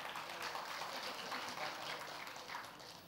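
Audience applause at a Vietnamese talk show, a continuous wash of dense clapping from a crowd, fairly quiet and steady across the short stretch.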